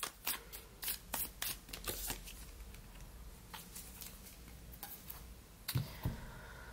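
Tarot cards are shuffled close up in a quick series of crisp riffling flutters and taps, then softer intermittent card slaps, with no talking.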